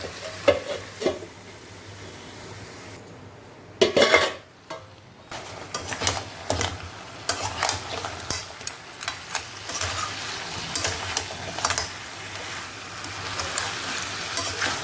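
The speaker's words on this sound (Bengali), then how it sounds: "এটাকে আবার আমি একটু গ্যাস কম করে কষাবো" Crab masala sautéing in a pan over a low flame, a low continuous sizzle with frequent stirring scrapes and ladle taps, close and moderately loud, no speech.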